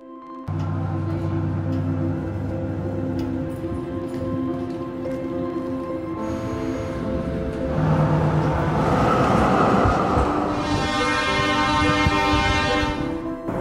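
A tram rolls past for over ten seconds as a loud, steady rail rumble with a sustained tonal hum and rising screech toward the end, close by, with no talk over it.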